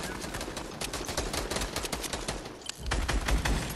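Rapid automatic gunfire in Fortnite Battle Royale: a dense, continuous stream of crackling shots, then a brief lull and a heavier, louder burst.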